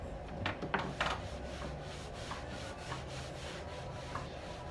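Dixie Belle black wax being rubbed into furniture, a continuous stiff scrubbing and rasping of cloth on wood with a few louder strokes early on, close and steady with no talking.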